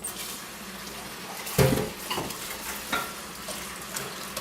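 Peanut butter being stirred into a sauce for healthy pad thai, a utensil scraping and sloshing through thick clumpy fluid in a pan, with a few short louder strokes over a low sizzling background and no talk.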